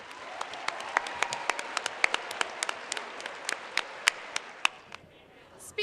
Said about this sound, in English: Can we give all 5 judges a big round of applause?